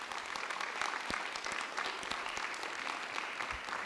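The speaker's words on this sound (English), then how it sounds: "Let's give these students one more big round of applause" An audience at a school board meeting gives students a round of applause, steady dense clapping throughout, fairly distant and moderate in level.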